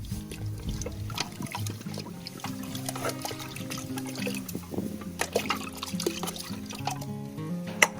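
Liquid organic fertilizer for chili plants being poured and stirred into water, a soft, continuous trickling and sloshing at close range with no voices.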